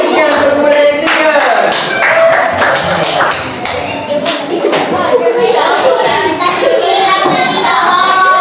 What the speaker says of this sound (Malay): Jadi beri tepukan untuk kepada yang ketiga.